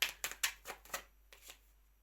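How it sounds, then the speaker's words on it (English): Tarot cards being shuffled, a run of about eight crisp, evenly spaced slaps and flicks of the deck, close and quiet, with a short pause before the last few. "let's shuffle one more time."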